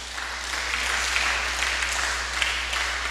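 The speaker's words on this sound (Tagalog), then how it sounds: "Palakpak." A church congregation applauds, a dense, even wash of many hands clapping that carries on steadily at moderate loudness, with no speech over it.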